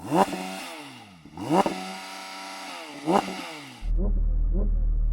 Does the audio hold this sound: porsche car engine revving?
yes